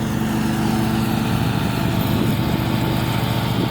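A lawn mower cuts dry grass around a house, its engine droning loud and steady from start to finish with no pauses.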